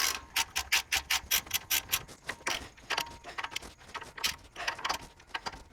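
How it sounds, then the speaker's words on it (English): A socket wrench with a 12mm socket ratchets bolts snug on a Toyota Landcruiser rear axle, giving rapid rhythmic clicking strokes in quick bursts, close and crisp, with no talk. "we're going to take the 12mm socket on the socket wrench and we're just going to snug each of those down"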